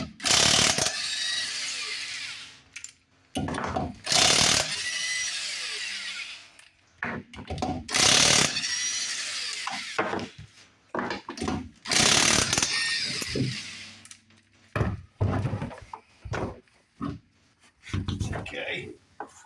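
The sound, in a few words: removing car tire lug nuts with a power tool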